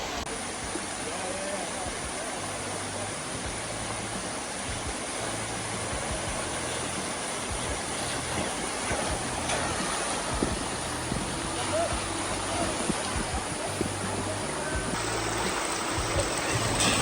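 Flowing stream water splashing and rushing steadily and close while an Electric Motion EPure electric trials bike rides through it, with broadband wash throughout and faint low hum pulses beneath.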